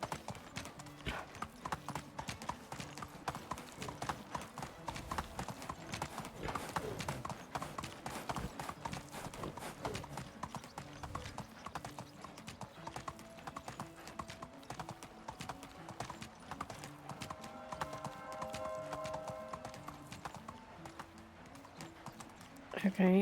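In the medieval survival game Medieval Dynasty, a ridden donkey's hooves clip-clop in a steady, regular rhythm for over twenty seconds at moderate level, with a brief chime partway through.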